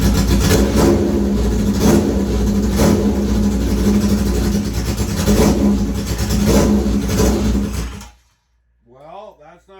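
A small engine runs with its choke held open, a loud rough roar pulsing in regular revving surges for about eight seconds before cutting out abruptly, followed by a voice speaking.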